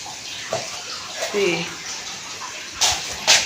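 Water running from a tap, a steady splashing flow with a few louder gushes near the end, while people talk intermittently over it.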